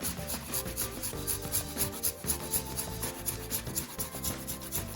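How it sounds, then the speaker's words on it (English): Fresh ginger is rasped against a grater in quick, steady strokes that run throughout, close and moderately loud, with background music underneath. "I'm now going to grate about half a teaspoon's worth of my fresh ginger."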